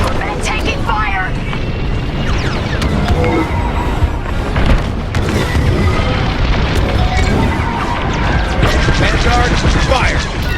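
Star Wars Squadrons space combat plays out as dense, loud, continuous blaster fire and explosions with engine roar, while voices talk over the battle throughout.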